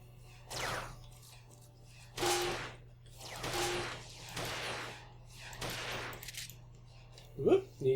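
Weapons fire in bursts in the TouHou game DynaMarisa 3D, several short noisy blasts spaced a second or so apart over a low steady hum.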